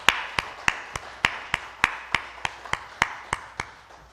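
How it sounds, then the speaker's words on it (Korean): A church congregation claps in a steady, even rhythm during a Sunday service: about fourteen crisp, evenly spaced claps over four seconds, with no talking. "축복의 박수 보냅니다"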